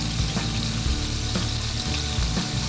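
Southern fried pork chops crackle and sizzle steadily in a hot pan, a dense continuous frying hiss with occasional soft pops, close and alone without talk.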